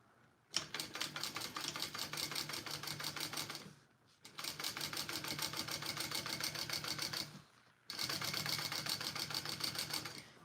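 Sewing machine stitching a Sue Sue Sling with a quarter-inch seam allowance; three long runs of rapid, close needle clatter, each several seconds, separated by short pauses.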